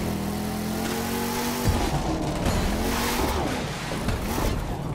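Car drifting in The Crew 2, with a steady engine drone and long rising and falling tire squeals sweeping through the slide, loud and close throughout.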